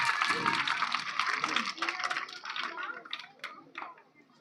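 A congregation claps together at an outdoor Christmas service, a dense, steady wash of hands that starts loud and thins toward the end, with talk and shouts mixed in.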